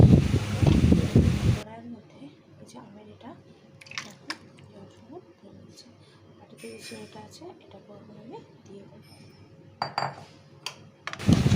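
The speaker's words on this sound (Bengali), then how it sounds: "এখন এটাকে আমি কড়াইয়ের মধ্যে ঢেলে দিচ্ছি" Raw mango pickle mixture is poured into a kadai, with soft wet sloshing and scattered metallic clinks of utensils at close range. A voice talks at the start.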